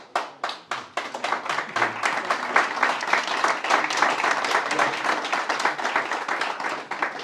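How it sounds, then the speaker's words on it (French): Clapping from an audience at a talk, beginning with a few distinct, separate hand claps and quickly building into steady, moderately loud applause that continues to the end. "je décode cet applaudissement comme étant un signal de l'organisateur"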